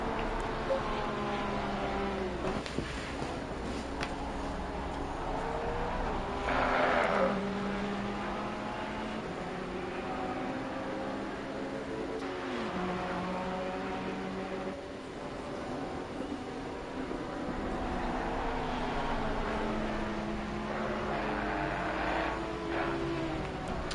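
GT3 race cars in Assetto Corsa Competizione, racing on PS5 at Kyalami. Several engines whine and rise and fall in pitch with repeated downshifts and revving as they brake into corners, a steady moderate roar that goes on throughout.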